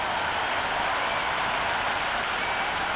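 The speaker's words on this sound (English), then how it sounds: "The crowd are making a heck of a lot of noise even before the first ball's been bowled." A cricket stadium crowd roars before the first ball of a T20 World Cup Super 8 match, West Indies against South Africa, a dense, steady wash of cheering and clapping that holds at a constant high level throughout.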